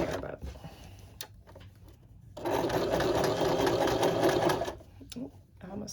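A sewing machine stitches a crotch seam in short, close bursts, then runs in one steady buzzing stretch, with pauses between runs and a faint voice in the background.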